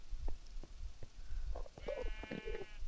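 Minecraft sheep bleat a couple of times near the end, preceded by soft low thumps and shuffling in the background; the bleats are clear and fairly close.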